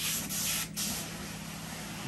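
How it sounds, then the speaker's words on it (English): Carpet-cleaning pre-spray hisses steadily onto carpet in a home with heavy fur, a continuous near, loud spray with brief dips in the first second, with no talking. "Show you a little bit of the pre-spray action."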